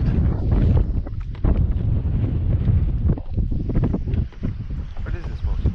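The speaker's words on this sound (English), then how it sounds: "Like the wind's not bad at all." Gusty wind buffets the microphone in loud, continuous rumbling roars on open water from a kayak while fishing for walleye, with a few brief spoken words in between.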